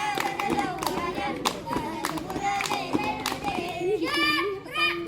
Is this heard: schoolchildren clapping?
yes